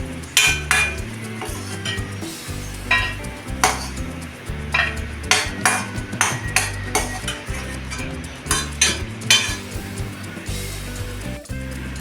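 Grated bottle gourd sautéed in ghee for a kheer sizzles steadily in a pan, with repeated sharp clinks and scrapes of a spatula stirring against the metal, loud and close, no talking.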